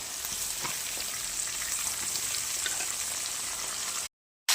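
Chicken pieces frying in hot oil give a steady, close, dense sizzle with faint crackles, then the sound cuts off abruptly near the end.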